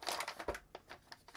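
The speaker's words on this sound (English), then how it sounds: "The card comes in a standard plastic bag" Close, quiet crinkling of a graphics card's plastic bag in short irregular bursts, rustling and crackling for a moment.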